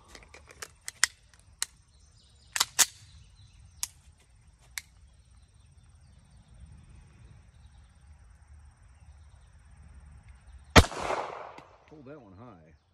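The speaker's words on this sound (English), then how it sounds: "15 yards, 2 4-inch circles, we'll put 5 shots in each one" Sharp pistol shots from a Staccato C handgun firing Remington Golden Saber carry ammunition at 15-yard targets, a handful of spaced cracks early on and one louder shot later, with quiet gaps between them.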